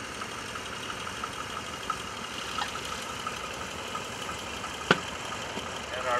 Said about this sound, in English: Here you can see the radial engine configuration on Paul Quinn's cylinder PT-23.